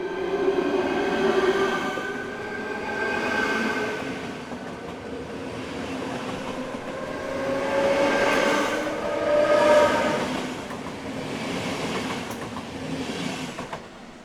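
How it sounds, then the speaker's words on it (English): A Czech locomotive-hauled passenger train, class 151 electric, rumbles past at close range through Prague Libeň station with a steady roar, rhythmic wheel clatter and tonal hum rising and easing over about fourteen seconds. "This is the Czech railway service for Opava, the 1625 from Prague, hauled by 151205."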